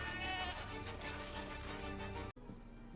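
A goat bleats during a ritual house-cleansing scene from a horror drama, a loud wavering cry running across the first two seconds before a sudden dropout and a quieter continuation.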